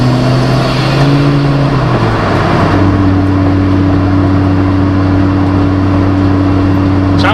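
An Audi S2 race car engine warming up close by, a loud continuous idle that rises in pitch with revs, drops, then holds a steady higher drone.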